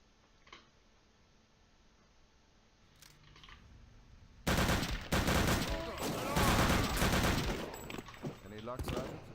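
Gunfire and a grenade blast erupt in the Return to Castle Wolfenstein video game, with dense, loud bursts of shots after a quiet stretch carrying faint game sounds.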